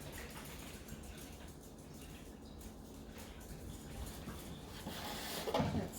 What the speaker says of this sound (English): We are going to put in 8 cups, which is this whole thing, full of water.